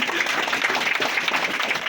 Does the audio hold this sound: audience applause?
yes